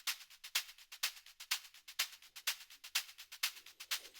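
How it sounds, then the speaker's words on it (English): A shaker sample from a techno track ticks in a quick, even groove, crisp bright hits repeating about twice a second, dry and alone. "the first shaker sounds like this"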